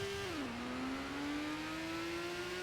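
A race car engine in Gran Turismo holding a high, steady rev after a brief dip in pitch, continuous and droning with no talk.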